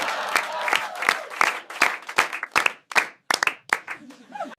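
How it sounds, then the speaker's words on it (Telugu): A comedy-show audience breaks into applause, a dense run of sharp hand claps that thins into scattered, separate claps toward the end, loud and close with no talk over it. "ఆడియన్స్, మనోడికి క్లాప్స్."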